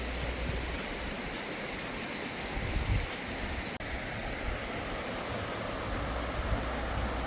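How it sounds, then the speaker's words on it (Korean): Steady rushing water from a mountain valley stream on Dongdaebongsan, Gyeongju, South Korea, pours continuously in autumn, a broad even roar like a stream tumbling over rocks, close and unbroken throughout. "계곡물이 시원하게 흘러내린다."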